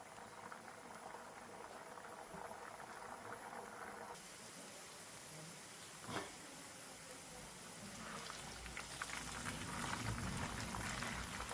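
Raw jackfruit slices fry in hot oil for chips, giving a steady, close bubbling hiss that grows slightly louder and denser toward the end, with no talking.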